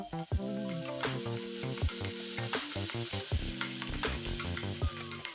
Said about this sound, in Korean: 썰어놓은 채소와 소세지 넣고 1분 정도 볶아주고